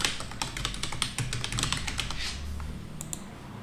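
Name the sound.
typing a domain on a computer keyboard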